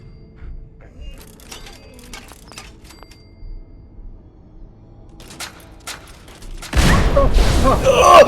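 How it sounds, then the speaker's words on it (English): An explosion in the video game Fallout 4 erupts as a sudden loud, sustained blast after scattered clicks and thumps of gameplay, with no talking. "Who doesn't love a good explosion?"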